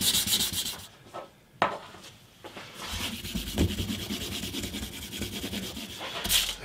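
Cloth rubbing glue off a scratch-built guitar body, a steady close scrubbing friction with brief pauses and a few knocks, no talking.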